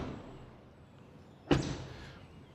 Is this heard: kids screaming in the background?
no